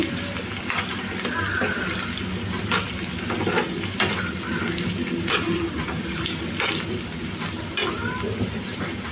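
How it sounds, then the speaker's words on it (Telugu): Cut drumstick pieces fry in oil for a tomato curry, making a steady, fairly loud sizzle with a wet, bubbling texture and occasional spoon scrapes and knocks against the pan. "ఇప్పుడు ఈ నూనెలో ఈ మునక్కాయలు ఒక రెండు నిమిషాలు ఫ్రై చేసుకోవాలి"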